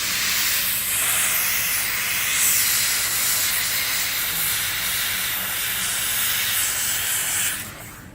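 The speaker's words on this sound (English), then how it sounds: "Now, you can see I'm using the steam." Steam cleaner hissing steadily and loudly while cleaning leather car seats, a continuous broadband jet that runs almost unbroken before cutting off near the end.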